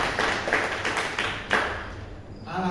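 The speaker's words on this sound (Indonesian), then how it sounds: "tepuk tangan dulu buat Bapak" A church congregation at a Bible study service claps hands together, a few quick bursts of mixed clapping that swell and fade over a couple of seconds, fairly close.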